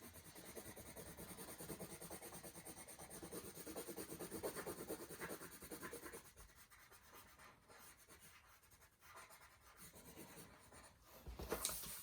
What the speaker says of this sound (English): press quite hard with your yellow pencil